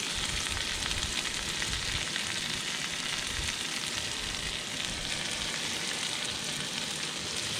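Bluegill fillets fry with mushrooms in butter in a pan, giving a steady close crackling sizzle that stays even and loud with no talking.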